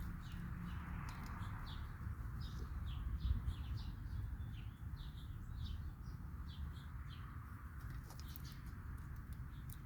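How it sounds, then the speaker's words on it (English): A bird sings in a tree outdoors, repeated short chirping calls over a steady low rumble of background noise, fairly distant and faint. "So I was listening to a bird in the tree."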